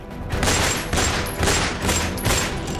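Gunfire in a street shootout in Gokulpuri, Delhi: a dense, continuous crackle of rapid shots, loud and rough, rising and falling in waves for a few seconds.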